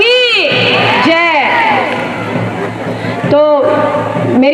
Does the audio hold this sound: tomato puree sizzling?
no